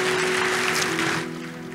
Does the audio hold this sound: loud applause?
yes